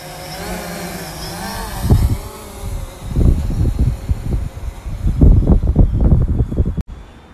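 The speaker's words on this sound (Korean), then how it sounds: "상당히 바람이 많이 불어." Strong gusts buffet the microphone while a drone flies about 59 m up over a Korean mountain, loud rumbling bursts rising and falling over a steady whine, with no talk.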